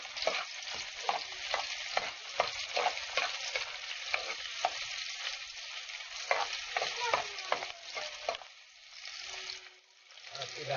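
Garlic sautéing in a pan with a continuous crackling sizzle and frequent spatula scrapes, a faint voice talking underneath, and the sizzle dipping quieter near the end.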